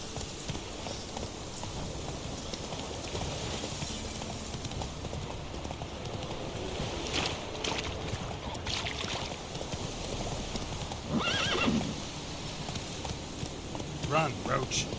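Hoofbeats of Roach, the horse in The Witcher 3, galloping steadily throughout, a continuous rapid clip-clop under game ambience and wind, with a couple of brighter effects near the end.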